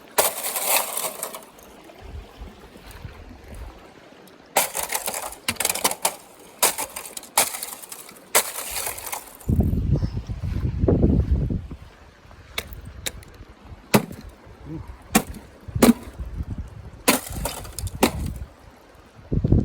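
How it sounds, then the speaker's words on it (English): Ice is broken against a rock on a mountain trail in the Sierras, with repeated sharp cracking and shattering bursts spaced irregularly, some loud and near, between lower rumbling thuds and shuffling. "Don't break glass, break ice."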